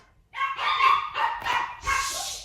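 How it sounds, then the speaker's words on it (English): Pet dogs barking indoors, a quick cluster of four or five sharp, loud barks and yips close by, with no talk over them. "My dogs are interrupting as usual."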